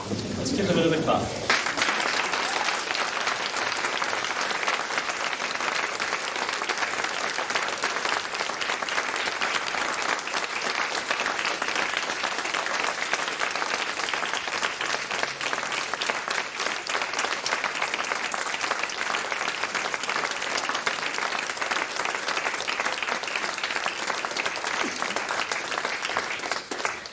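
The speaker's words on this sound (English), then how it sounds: "Let's give them another clap." Audience applause after a 1996 school production of Scrooge, a sustained, steady round of clapping from a sizeable crowd that fills the whole stretch without letting up.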